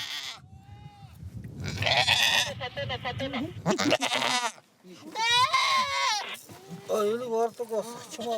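Goats in the Gobi desert bleat repeatedly, loud and close, between stretches of a narrator's voice.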